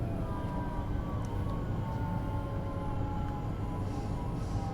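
Electric passenger train running on the Leipzig–Dresden line in Train Sim World, a steady, continuous rumble with sustained tonal motor hum, heard up close from the cab with no talking.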